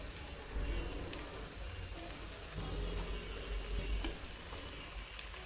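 Koi fish going into a pan of nearly cooked, frying spice paste, with a steady broadband sizzle throughout and low bumps and clatter of the pieces landing and settling.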